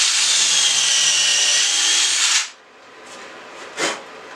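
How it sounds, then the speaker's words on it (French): A drill driver boring a pilot hole in pallet wood gives a steady whirring grind for about two and a half seconds and then stops, leaving faint scuffs and a short knock. "Donc c'est parti, on pré-perce."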